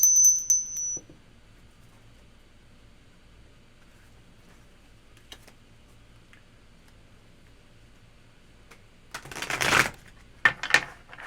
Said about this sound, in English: ring the bell for water signs.